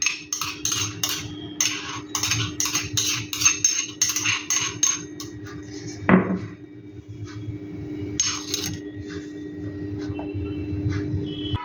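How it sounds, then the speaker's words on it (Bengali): A spoon scrapes and taps as ginger-garlic paste is moved into a glass wok, making quick rhythmic metallic clinks and scrapes, then a single sharp knock, followed by quieter intermittent scraping. "এবার এই পেস্টটি একটি কাঁচের কড়াইতে আমি নামিয়ে নেব।"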